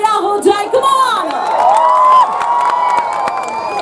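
A crowd at an outdoor park music event in Rewa cheers, whoops and claps for three singers: loud, continuous shouting and applause with high voices rising over the noise.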